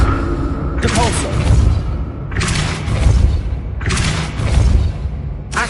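Depulso spell cast in the video game Hogwarts Legacy: three loud, booming blasts a little over a second apart, each a broad thudding burst, over a steady game soundscape.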